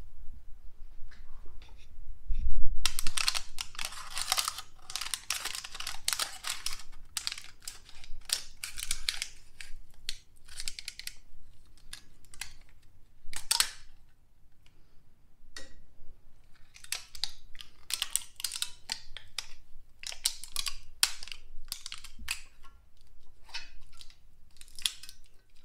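Foil heat-treatment packet holding a MagnaCut steel blade being cut open with scissors, giving a run of close, crisp snips and crinkling foil crackles in irregular bursts with short pauses, no talking.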